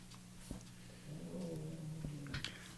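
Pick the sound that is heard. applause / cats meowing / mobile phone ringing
cats meowing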